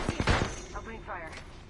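Gunfire in a video game: a quick cluster of sharp, close shots at the start, then a lower rumbling tail, with a voice speaking over part of it.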